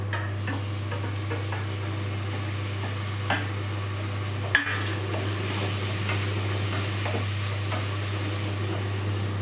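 Tomatoes sizzle steadily in a hot pan of oil, with a continuous broad frying hiss, a low steady hum underneath and occasional soft stirring knocks against the pan.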